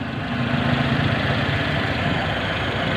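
Mitsubishi Lancer with a 4G13 engine idling smoothly and evenly, a steady close-up mechanical hum and low rumble with no misfires, heard alone.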